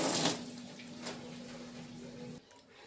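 Peeled vegetables are washed under running tap water, a steady close splash that stops abruptly near the end, leaving a quiet room.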